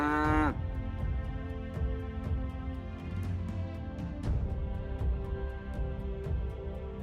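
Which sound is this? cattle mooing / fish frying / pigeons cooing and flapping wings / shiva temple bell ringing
cattle mooing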